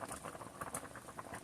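Beef stew bubbling steadily in a pot, a dense, soft patter of small pops and liquid blips that continues without pause; no voices.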